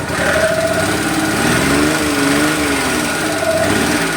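A Suzuki Multicab mini van's F6A engine idles loud and close with low power, its rough, uneven chugging revealing a misfire. Sputtering pulses wobble through the steady drone.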